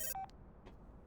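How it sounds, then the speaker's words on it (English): A cell phone rings inside a dating sim video game: one short electronic ringtone chirp and a brief tonal beep, then near silence. "Is it just me or is Crystal's phone ringing a lot"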